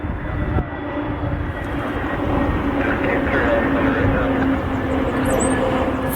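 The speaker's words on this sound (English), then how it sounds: "we got to send a big welcome to Aer Lingus Flight 98 Kilo inbound from Dublin" Aer Lingus Airbus A321 airliner on arrival at Cleveland Hopkins International Airport, a steady, loud broadband engine roar and rumble filling the whole stretch, with a faint voice underneath.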